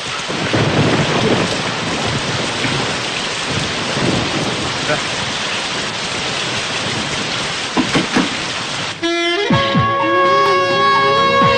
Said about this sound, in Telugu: వర్షం పడుతుంది కదని